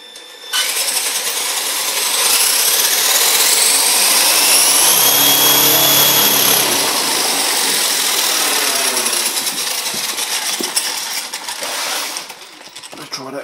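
A loud, continuous high-pitched whirring of a freshly balanced upside-down toy truck's Big Joe wheels spinning at full revs, rising in pitch and then winding down, with scattered clicks near the end.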